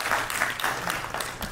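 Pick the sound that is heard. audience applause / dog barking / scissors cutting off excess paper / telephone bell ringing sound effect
audience applause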